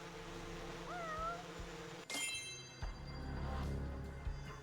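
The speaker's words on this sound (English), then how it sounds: "I heard a meow. Is that a stray cat for me to get?" A stray cat meowing in the video game Judgment, a single faint, drawn-out meow over steady game ambience, followed by a sharp impact and ongoing background hum.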